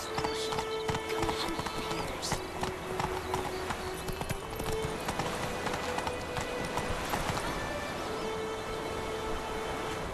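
The horse Roach gallops along in The Witcher 3 near White Orchard, a rapid, rhythmic clip-clop of hooves over a steady game ambience, with a faint musical tone underneath.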